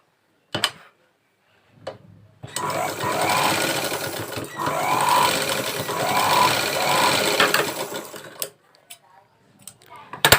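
Sewing machine stitching folded rope fabric about a quarter inch from the edge, a steady close mechanical whir running for several seconds after a few soft handling knocks, with quiet taps at the end.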